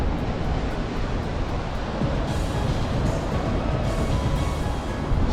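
Atlantic Ocean waves washing in at Foz do Douro beach where the River Douro meets the sea, a steady broad roar of surf with wind buffeting the microphone throughout and no voices.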